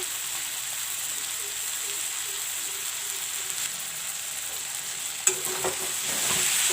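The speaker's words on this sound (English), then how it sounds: "And fry the masalas along with the vegetable." Masala spices frying with vegetables in a pan for saag, a steady close sizzle throughout with a brief clatter of stirring near the end, no talk.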